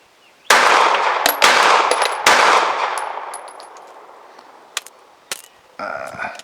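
Pistol shots from a Sig 365 XMacro and an FN 509 CC ring out at an outdoor range: three loud, close reports with long echoing tails, followed by fainter metallic clinks and a final shot.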